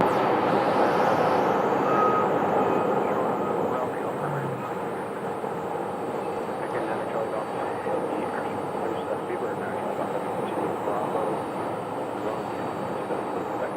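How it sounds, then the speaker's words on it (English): Airliner at Phoenix Sky Harbor Airport heard as a steady, broad engine rumble and whine that holds throughout, with radio chatter and talk running beneath it. "So this flight from Philadelphia, it was told to go to the end of the runway, go to the run-up area"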